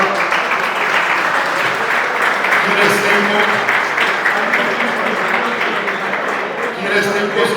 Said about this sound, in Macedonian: една аплауз за Убавка.